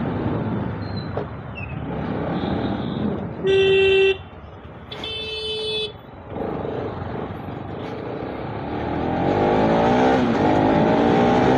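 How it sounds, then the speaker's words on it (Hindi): A Bajaj RS200 motorcycle rides through Jodhpur city traffic, its exhaust a steady engine rumble that swells toward the end. Two sharp car horn toots cut through, with busy street noise all around. "साउंड कैसा आ रहा है आपका एग्जॉस्ट का"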